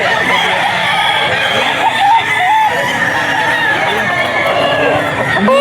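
Roosters and stags crow and cluck at a busy pet market in the grotto, with loud crowd chatter and people talking all around.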